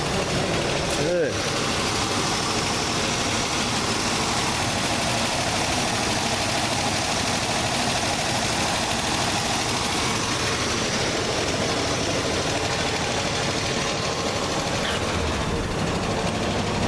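An old car's engine idles roughly just after a cold start, the steady low rumble filling the whole stretch with occasional revs from a restless gas pedal.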